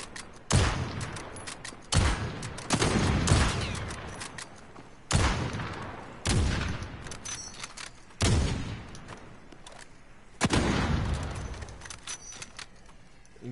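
Video game gunfire comes in repeated loud bursts, about six sharp volleys spaced a second or two apart, each trailing off into a rattling decay, with no talking.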